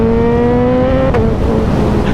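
A 1000cc naked motorcycle engine drones loud and steady while riding on a road in Scotland, its tone holding even before a brief dip and shift midway, with wind and road rumble underneath.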